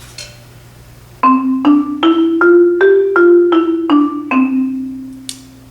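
Mellow marimba tones struck with yarn mallets ring out in a slow sequence of about nine single notes, each with a soft attack and short decay, played close and clear.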